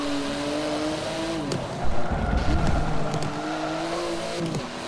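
A race car driven in Forza Motorsport 7 on ultra settings, with a steady engine drone that shifts pitch through gear changes and a louder rumbling, scrabbling stretch midway, no voices.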